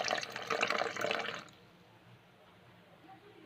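Milk poured into pancake batter makes a brief liquid splash and gurgle for about a second and a half, then drops to quiet room tone.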